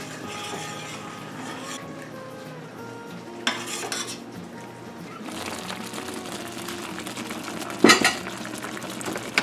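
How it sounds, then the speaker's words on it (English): A spoon stirs rasmalai mixture in a pot, a soft continuous scraping and swirling close by with a few sharper clinks against the metal, and no talk over it. "Let's give it a good mix."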